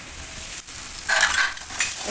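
Eggplant filling frying with spices in a pan for stuffed brinjal, a steady sizzle that grows louder about halfway through, with no talking.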